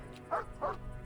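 A dog in the Mr Prepper video game gives two short, evenly spaced barks, close and clear over a quiet background.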